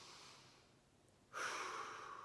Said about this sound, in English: breathing through your nose